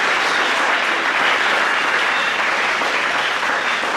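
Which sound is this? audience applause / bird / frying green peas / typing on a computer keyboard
audience applause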